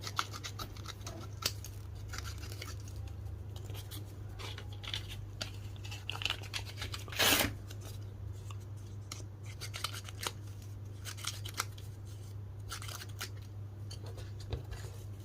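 Schrade Tough Tool multi-tool scissors cut through cardboard and paper in a string of short, crisp snips and crunches over a steady low hum, with one louder tearing cut midway.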